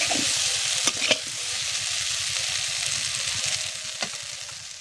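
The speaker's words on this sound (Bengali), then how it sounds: "ফুলকপি আলুটা প্রায় ভাজা হয়ে গেছে, মানে কষানো হয়ে গেছে।" Cauliflower and potato frying in a pan while being stirred, a continuous close sizzle broken by a few sharp scrapes and clacks of the spatula, without any voices.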